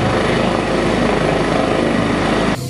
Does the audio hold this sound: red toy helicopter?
yes